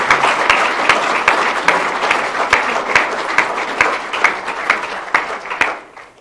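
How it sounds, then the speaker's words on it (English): An audience at a network event gives a round of applause for panelists, a dense, steady wash of many hands clapping close by that holds for about six seconds before thinning out at the end. "let's have a round of applause for our panelists"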